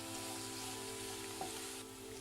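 Mushrooms and greens fry in a pan with a steady, soft sizzle and hiss, a faint stir or clink partway through, with low background hum and no talking.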